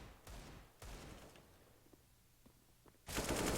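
Gunfire in a professional Counter-Strike match between Astralis and Mouz: two sharp shots close together early on, then a quieter stretch and a louder burst of fire at the end.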